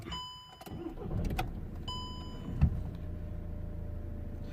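A VW Tiguan with several faulty systems is started: a short whirring crank and a few clicks catch into a steady, fairly quiet engine idle that hums on alone.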